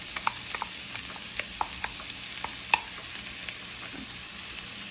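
Onions with bay leaf and green chili frying in hot oil in a pan for a Bengali rohu fish and cabbage dish, a steady soft sizzle broken by occasional sharp pops and stirring clicks, near and alone.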